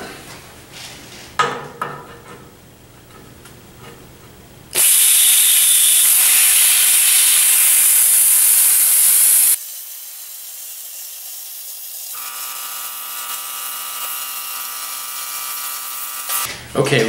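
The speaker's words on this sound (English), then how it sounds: "taking the plasma cutter and cutting along that line" A plasma cutter slices through thick steel plate of roughly quarter-inch gauge in a welding shop, a loud, harsh hiss that bursts on for about five seconds and then cuts off, followed by lower steady hums.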